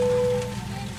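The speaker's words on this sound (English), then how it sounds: "Sounds like we got some type of rain going on or something out here." Rain falls on the cockpit of a CRJ 1000 airliner in X-Plane 12, a steady close hiss of drops with a faint tonal hum running beneath it.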